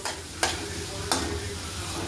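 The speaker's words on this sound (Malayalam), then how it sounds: "പച്ചമുളകും ചേർത്ത് ഒന്നുകൂടി ഒന്ന് വഴറ്റിയതിലേക്ക് അരിഞ്ഞ് മാറ്റി വെച്ചിരുന്ന തക്കാളി ചേർത്ത് കൊടുക്കാം." Chopped tomatoes and green chillies sauté in a pan with a soft, steady sizzle, broken twice by sharp scrapes of a spoon stirring against the pan.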